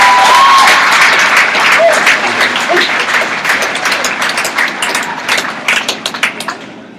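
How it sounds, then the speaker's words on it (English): A large audience at a university livestock show event applauding, a dense wash of clapping at first that gradually thins into scattered individual claps as it dies away. "we get a huge round of applause"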